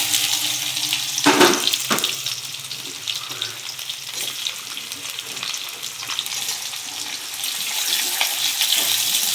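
Amla (Indian gooseberries) fry in oil with panch phoron, giving a steady loud sizzle with occasional stirring scrapes and clatter close up, continuing throughout with no talk.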